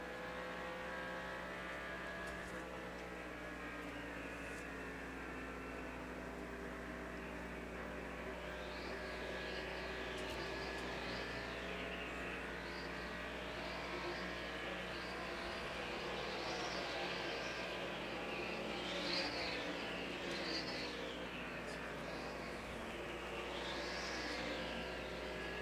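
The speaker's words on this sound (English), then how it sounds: "Interesting to hear the places that Dale gets off the accelerator and onto the brake and then back on" A 1988 NASCAR Cup race car engine at Phoenix, heard from an in-car camera, drones steadily. Repeated rising and falling whines mark the driver lifting off the throttle, braking and accelerating again over a constant low rumble.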